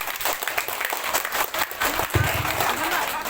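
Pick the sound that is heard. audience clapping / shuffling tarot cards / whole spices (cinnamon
audience clapping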